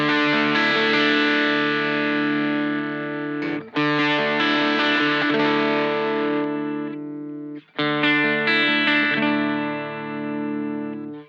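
Electric guitar played through a Chaos Audio Stratus pedal with its effect mix adjusted, sustained chords ringing with distortion and chorus-like modulation, loud and close, with two brief breaks between strummed passages.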